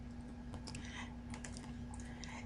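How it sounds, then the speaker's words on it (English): Keys on a computer keyboard clatter in quick, uneven bursts of typing against a low steady hum, fairly faint and near, with no voices. "I can type anywhere"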